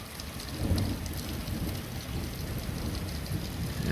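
Heavy rain pours down steadily during a February thunderstorm, a dense continuous hiss of drops drumming on surfaces, close and fairly loud, with no talking.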